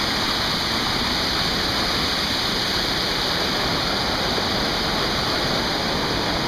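Rushing water pours down the Donaldson waterfalls in a loud, steady roar that fills the whole clip, broadband and unbroken, with no voices over it.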